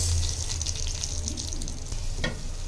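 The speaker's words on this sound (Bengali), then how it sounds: "দেখুন এবার চাউলটাকে ভালোভাবে ভেজে নিবে।" Rice frying in a pot for chicken biryani, giving a steady close sizzle with light stirring scrapes and a brief sharper clatter near the end, with no voices.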